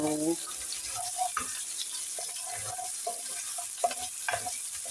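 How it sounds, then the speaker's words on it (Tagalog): Onion and garlic sautéing in a pan for pancit, a constant low sizzle with occasional stirring clinks and a brief voice at the start, recorded close. "lutuin ng kunti ang sibuyas at garlic para lumabas ang aroma."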